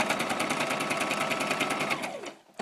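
Sewing machine stitching a seam on a stuffed animal made from vintage linens, a fast steady whir with rapid needle ticking, close and loud, then winding down and stopping near the end.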